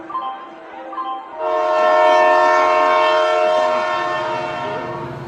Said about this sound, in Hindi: उतनी देर में ट्रेन आ जाती है